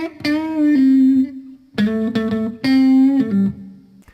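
An electric guitar plays a blues melody with bent notes sliding between pitches, loud and close, in three sustained phrases separated by brief pauses.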